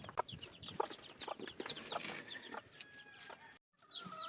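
Newly hatched Lemon 84 chicks peeping on a farm, a series of faint, high, short chirps in quick irregular bursts over low background noise, with a brief drop to silence near the end.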